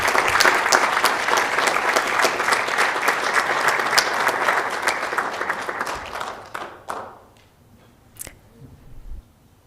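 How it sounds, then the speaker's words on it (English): Council meeting audience applauding a project team: a loud, dense round of many hands that thins out and fades after about six seconds, leaving a few scattered claps near the end. "if you all would just give a round of applause for this team"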